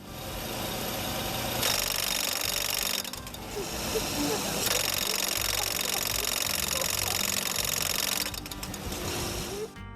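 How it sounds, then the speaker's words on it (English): A truck engine knocks loudly and rapidly, hammering on steadily like a jackhammer, with clattering and grinding layered over it and brief gaps in the noise. "Customer states, my engine sounds like a jackhammer."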